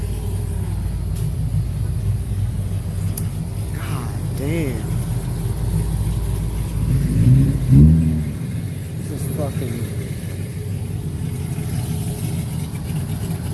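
A 1,000-horsepower Shelby Super Snake idles at a large car meet with a deep, steady rumble and a brief swell of revving, while people talk close by over it.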